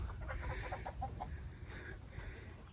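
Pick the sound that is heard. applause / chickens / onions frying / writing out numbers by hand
chickens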